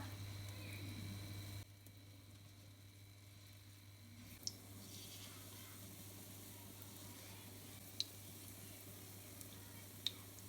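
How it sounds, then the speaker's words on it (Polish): Faint, steady sizzling of spinach pancake batter frying in hot oil, with a low background hum and a few small clicks or pops. "Na rozgrzany olej nakładać porcję ciasta."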